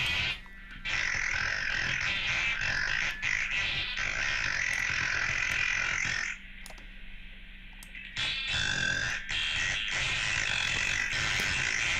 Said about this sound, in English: This is the sound of strangling R2-D2.